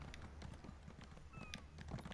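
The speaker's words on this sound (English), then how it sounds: "you're going to pull out your horse, and you're going to ride" A horse's hooves clip-clop in a quick, steady rhythm during a short ride in Elder Scrolls Online, fairly quiet over faint ambient game sound, with no speech.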